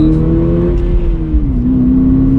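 A Toyota GR86 engine accelerates, a loud, close, steady drone that rises and then drops slightly as the revs change, heard from inside the car with no talking.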